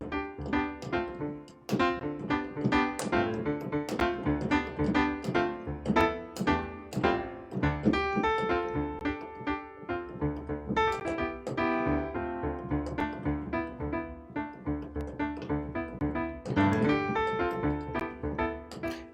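A solo piano plays a funk-style piece, with rhythmic syncopated chords over a bouncing bass line. It stays continuous, lively and near throughout with no talk.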